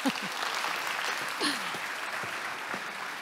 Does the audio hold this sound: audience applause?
yes